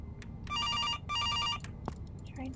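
A telephone in an indie horror game rings in two long electronic bursts of trilling bell tones, loud and close, over a low rumbling ambient drone, followed by faint scattered chimes.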